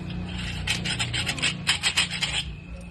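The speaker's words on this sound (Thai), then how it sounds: "ใช้นี่ใบเลื่อยเก่าขูดออก" Rapid rasping scrapes of an old saw blade rubbing across a hard surface, shaving down a loose-fitting knife sheath, a quick series of short strokes close by with a low hum underneath.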